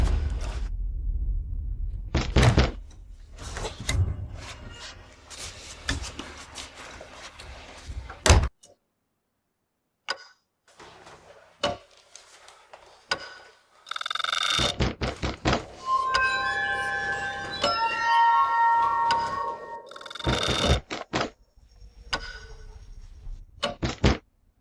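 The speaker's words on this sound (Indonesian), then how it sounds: "Itu ketukan kan?" Sharp knocks and thuds in a house, interrupted by a stretch of near silence, then further knocking over an eerie, tonal music background.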